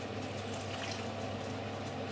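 Water runs steadily into a pan of soaked basmati rice, a continuous close splashing pour with no voices.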